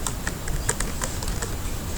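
Quick, uneven keystrokes clatter on a computer keyboard close by, a run of light taps with short pauses and no voices.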